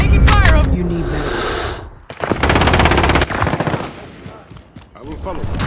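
Rapid automatic gunfire in a Call of Duty-style multiplayer shooter, long dense bursts of shots following an opening stretch of voiced game audio, with brief pauses between volleys and loud, close-sounding fire throughout.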